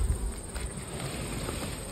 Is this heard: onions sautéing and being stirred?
no